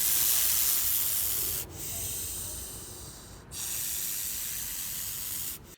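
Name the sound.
bull snake hissing, sounding like a rattlesnake's rattle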